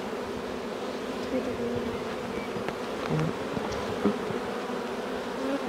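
A honeybee colony opened for a hive inspection hums with a steady, dense buzz throughout, close and even, with individual bees droning past now and then.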